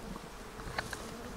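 Honeybees buzz in an open beehive that may hold a virgin or newly mated queen, a faint, steady hum with a couple of brief louder buzzes passing close.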